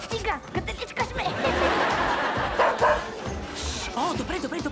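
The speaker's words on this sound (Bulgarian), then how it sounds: "Кучетата, защо ни душат толкова много?" Cartoon dogs bark and yip amid excited character voices, with short yelps, sniffing and whimpering mixed into busy talk and a brief laugh.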